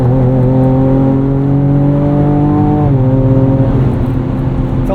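A tuned 2024 Ford Ranger Raptor with a Ford Performance tune pulls up an entrance ramp, its engine drone holding steady and loud through a held gear, then dipping briefly before climbing again, with no talk over it.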